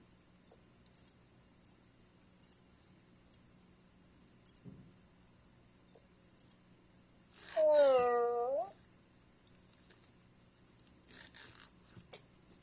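After several faint clicks and taps, a small robot gives a synthetic, electronic-sounding meow that rises and falls once, clearly imitating a cat, then quiet ticking resumes.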